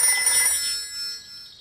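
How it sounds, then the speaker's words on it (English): A telephone rings in a Peppa Pig cartoon, a loud, bright electronic ring that sounds once and then fades away. "I'll ring Granny Pig"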